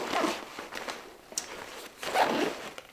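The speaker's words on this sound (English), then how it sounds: "Zippers seem to work pretty smoothly." Zippers on a day hiking backpack being opened, two smooth drawn-out zipping runs up close with small rustles of fabric in between, no talking.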